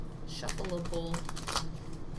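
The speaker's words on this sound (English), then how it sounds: "the thing that I struggle the most with is shuffling cards in general, just like the bigger ones" A large Stranger Things tarot deck is riffled and shuffled by hand in a run of papery flutters and clicks, with a voice briefly heard partway through.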